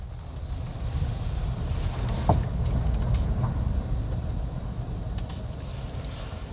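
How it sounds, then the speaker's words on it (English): A Maruti Suzuki Grand Vitara strong hybrid SUV rolling in pure EV mode, heard from inside as a steady low road and tyre rumble with no engine note, continuous and fairly loud, with a few faint clicks. "Now the vehicle is driving on pure EV mode."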